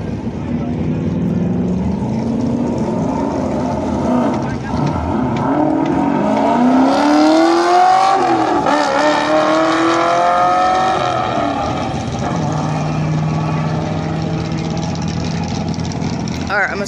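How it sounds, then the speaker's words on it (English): Ford Mustang engine roaring during a drag race at a dragway, a loud sustained revving drone with rising pitch sweeps mid-run, heard up close amid crowd and track noise. "Mustang is racing it."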